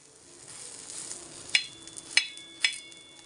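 Cheesy moonglet sizzling softly in a pan after being flipped, a low steady fry with three sharp clinks or taps spaced about half a second apart, no one speaking.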